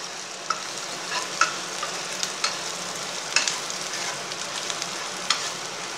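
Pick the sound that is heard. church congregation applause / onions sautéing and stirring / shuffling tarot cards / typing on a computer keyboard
onions sautéing and stirring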